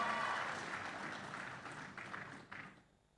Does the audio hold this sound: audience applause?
yes